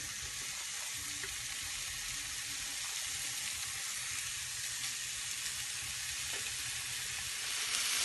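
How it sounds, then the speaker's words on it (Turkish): Steady, crackling sizzle of hamburger patties frying in a pan, continuous and fairly quiet throughout. "Evet arkadaşlar köftelerimizi kızartmaya başladık."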